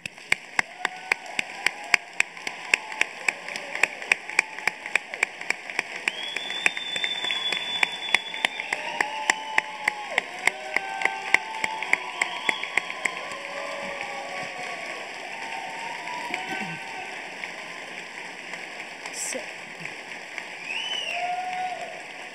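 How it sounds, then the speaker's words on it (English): A commencement audience in an auditorium applauds for physical therapy graduates, rhythmic clapping with distinct regular claps over a bright, reverberant room wash and faint background murmuring. "And how about a round of applause now?"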